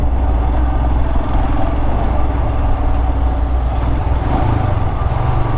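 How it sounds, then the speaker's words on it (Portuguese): A Royal Enfield Himalayan motorcycle rides through rush-hour traffic in São Luís do Maranhão, its steady engine drone close and loud, mixed with wind rush and no talking. "Seguindo aqui na minha Himalaia."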